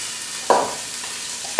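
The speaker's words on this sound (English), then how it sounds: "And you put the ground beef in." Ground beef hitting hot oil in a large saucepan over medium heat, a steady close sizzle with a sharp burst as the meat drops in and another crackle at the end, no voices.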